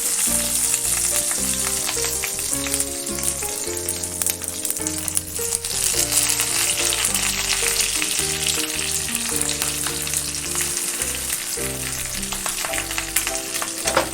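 Raw jackfruit pieces fry in hot mustard oil, a continuous bright sizzle and crackle running beneath loud melodic background music for the whole stretch.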